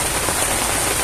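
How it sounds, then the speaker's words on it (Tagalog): Steady rain falling, a dense even hiss of drops filling the whole moment without pause, loud and close, with no voices. "Ulan na."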